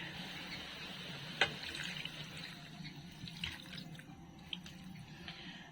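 Water runs quietly from a tap in a steady trickle into a cooking pot, with a few faint clinks and splashes, no voices.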